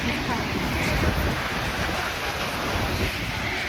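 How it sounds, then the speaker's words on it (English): At the base of a large waterfall in the Pacific Northwest, a loud, unbroken roar of falling water fills every moment with steady broadband rushing and wind buffeting on the microphone. "It is the base of the waterfall. It's really loud."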